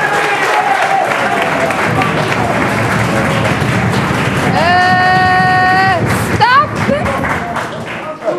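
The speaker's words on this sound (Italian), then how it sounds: "Ma ragazzi, fate loro un applauso." A crowd of young people at a school sports event applauds loudly and steadily throughout, with cheering and whistle-like tones rising briefly near the end.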